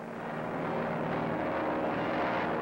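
A helicopter carries a team of paratroopers climbing high into the sky for jump training, its engine and rotors making a loud, steady, continuous drone that holds throughout with no breaks.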